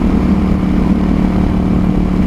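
A motorcycle engine in a video game drones steadily at a constant mid-pitched rev, loud and continuous throughout with no talking.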